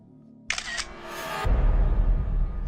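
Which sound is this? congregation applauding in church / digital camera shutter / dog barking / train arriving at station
digital camera shutter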